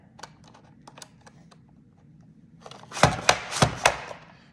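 Potato pushed through a Pampered Chef Rapid Prep Mandoline on a thicker fry setting: a few soft taps early, then a close burst of four or five loud crisp slicing chops in quick rhythm near the end.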